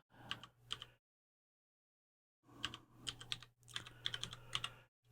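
Quick bursts of typing on a computer keyboard while entering a short prompt at a computer, two brief clusters of key clicks, a pause of silence, then a longer run of close, crisp keystrokes.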